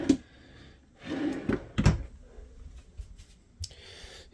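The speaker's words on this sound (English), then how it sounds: "And then you've got drawers all down below. They all look like this." Bedroom drawers in a renovated 2016 Forest River Georgetown 364TS RV slide open and shut several times, with wooden thumps and clicks at irregular intervals, close and fairly loud.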